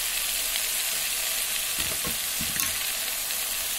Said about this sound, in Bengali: কুলগুলো একটু ভাজা ভাজা হয়েছে